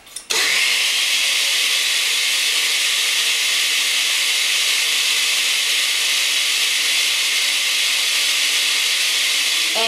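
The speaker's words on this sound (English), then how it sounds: "And we go on ahead and we can blend that up." A kitchen blender starts abruptly and runs at a loud, steady high-pitched whir, blending a thick chocolate low-carb, high-fat breakfast smoothie for nearly ten seconds without any voices.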